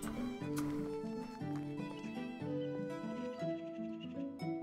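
Horse in the medieval survival game Medieval Dynasty, heard as a run of clip-clopping hooves and a whinny over a steady looping backdrop of game music, all fairly close and continuous.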